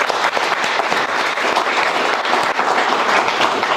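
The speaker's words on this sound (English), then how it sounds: "Let's give them a round of applause." An audience applauds at a university anniversary event, dense continuous clapping filling the room at full volume throughout, with no voices heard over it.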